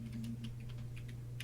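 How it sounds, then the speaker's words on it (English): Steve typing on a computer keyboard, a run of irregular light key clicks, faint and distant over a steady low electrical hum. "just hearing Steve like smack away at his keyboard"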